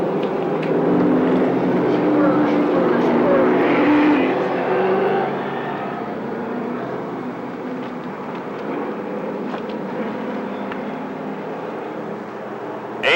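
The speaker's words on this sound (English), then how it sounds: "8 cars getting ready to go 8 laps in the first of our 3 late model heats" A field of eight late model race cars circles the track on a pace lap before a heat, a loud massed engine rumble that fades to a lower, more distant drone after a few seconds.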